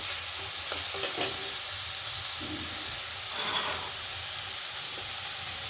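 Greens cooked with eggplant are stirred and dried out in a wok. A steady hiss of frying runs throughout, broken by a few soft scraping strokes of the spatula, and no one speaks.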